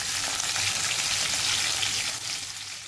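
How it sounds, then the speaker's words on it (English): Garlic and green chilies fry in a pan with a steady, close hiss of oil that holds for about three seconds before easing slightly, with no voices. "Next goes in the garlic, and green chilies, and fry it for a minute."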